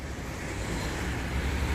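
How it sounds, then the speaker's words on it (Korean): Steady loud rumble of a heavy cargo truck engine, a broad constant roar with no pauses. "화물차 소리 때문에 시끄러워 가지고"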